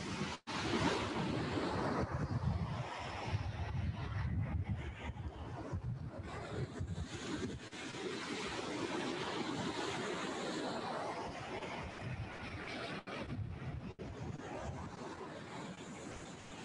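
Ocean surf rolls onto a beach in a steady wash, with gusting wind buffeting the microphone and faint voices somewhere in the distance.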